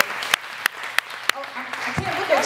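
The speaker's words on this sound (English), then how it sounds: "Give her a round of applause for bringing us all together today" A handful of sharp, isolated claps spaced roughly a third of a second apart at a WELLFITsocial talk event, then a voice begins speaking.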